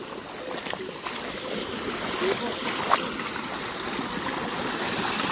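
Small waterfalls and streams running after the first monsoon rain in Konkan: a continuous, close rush and trickle of flowing water, steady throughout at moderate loudness.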